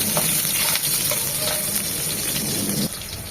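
Chopped garlic fries in hot oil in a pan, a dense continuous sizzle with faint stirring scrapes, steady and close, dropping slightly in level near the end.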